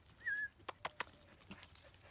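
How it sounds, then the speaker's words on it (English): Small dog giving a brief high whimper, followed by soft clicks and jingling tags nearby, faint and close in a quiet room. "there's a doggy coming up behind me."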